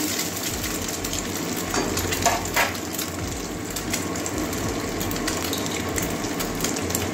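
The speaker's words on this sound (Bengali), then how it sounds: "ডিমটা একটু ভুজিয়ার মতো করে নিচ্ছি।" Egg being scrambled in a pan, bhujia-style, for a Maggi paratha recipe: a steady sizzle with scraping and stirring of the spatula, continuous and close, with no talk.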